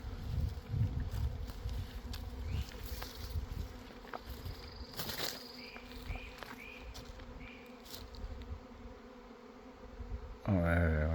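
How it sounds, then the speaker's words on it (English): A continuous buzz from a swarm of bees in Georgia woods drones throughout, with scattered clicks and chirps and a short burst of voice at the very end. "That's a swarm of bees somewhere."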